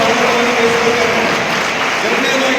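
Steady, dense clapping from an audience at the inauguration of a one-day teachers' workshop on English and science, a sustained loud wash of applause with no breaks.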